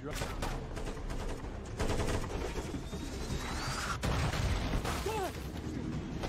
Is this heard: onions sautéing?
no